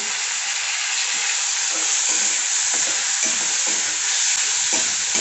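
Peas, onion and ginger-garlic paste fry in a pan for masale bhaat. A steady, loud sizzle runs throughout, with soft scraping from stirring and no voices.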